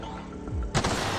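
A sudden blast from an explosive set off in The Outer Worlds hits near the end after a quieter stretch of game ambience, short and fairly loud with no voices.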